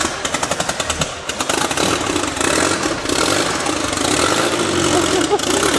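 A swapped Toyota 4A-GE engine running in a Toyota Sera project car, loud and close, with rapid rhythmic firing pulses at first that settle into a steady, rough idle.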